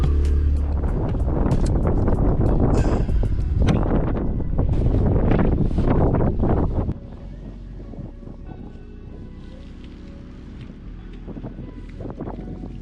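Strong wind buffets an anchored boat, loud and continuous with gusting roar for the first seven seconds, then dropping to a steadier, quieter rush of wind and water.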